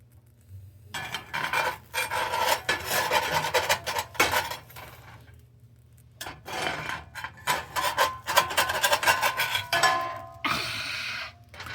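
Spatula scraping a cooking homemade corn tortilla off a hot pan, a run of close, rough rasping strokes, a pause, then a second longer burst of scraping.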